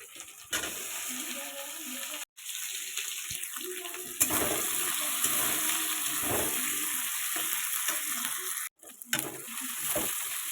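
Ginger-garlic paste sautés in a small amount of oil, making a steady hissing sizzle with occasional stirring, close and continuous, broken by two brief cuts to silence.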